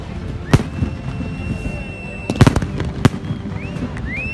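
Several sharp fireworks bangs burst out at intervals, with whistling rockets streaking upward, amid crowd noise and distant chatter, at a midnight Independence Day fireworks display in a stadium in Turbat, Pakistan.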